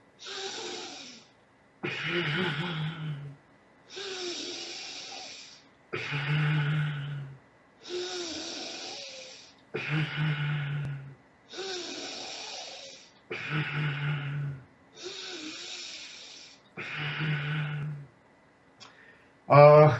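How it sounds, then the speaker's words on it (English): A deep breathing exercise is demonstrated, with about nine slow cycles of long, airy inhales and exhales, each followed by a low hum or throaty breath and short pauses between them, close and fairly loud. "we can do the deep breathing like this"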